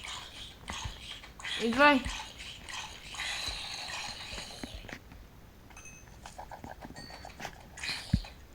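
A dog in the Minecraft video game gives a short rising whine and yelps amid quiet game sounds and footsteps, with faint talk around it.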